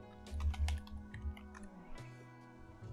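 A password is typed on a computer keyboard while setting up Nextcloud on a Raspberry Pi, a quick, close burst of irregular key clicks over about three seconds.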